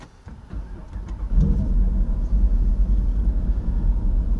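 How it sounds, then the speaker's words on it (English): A 2018 Jeep Grand Cherokee Trackhawk catches and settles into a deep, loud idle, its lopey cam giving the low rumble an uneven, pulsing throb heard up close. "this cam's got such a lope to it that it shakes the whole car a little bit at idle"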